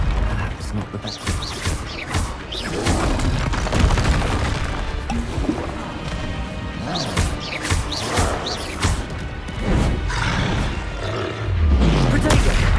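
Spell blasts and explosions in Hogwarts Legacy, repeated loud booming impacts and crackling bursts in quick succession over a dense rumbling bed, with a voice shouting spell names between them.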